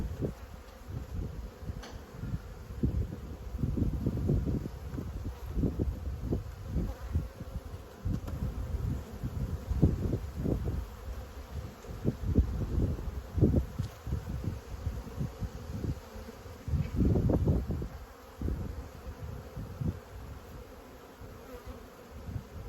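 A honey bee colony that has turned into a drone-laying hive gives off a dense, continuous buzzing close by, swelling and dipping in loudness over a faint background hiss, with no voices.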